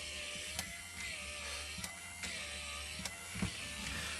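A faulty 24-volt fire door actuator motor, its supply polarity reversed, drives back in with a steady whirring hum, punctuated by several sharp mechanical clicks and ratcheting ticks spaced roughly evenly.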